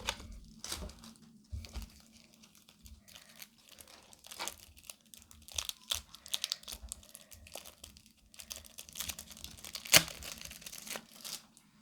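Football trading card packs from the Süper Lig 2023 set being torn and opened, with close, sharp crinkling and tearing of foil wrappers in irregular bursts and quiet pauses between.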